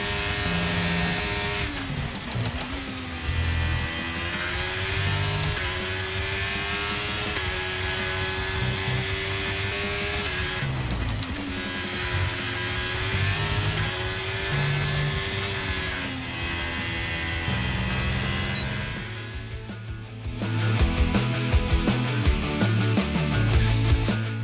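A simulated F1 race car from the F1 23 game laps the Barcelona circuit, its high-pitched engine rising and falling through gear changes and braking for corners, loud and steady throughout.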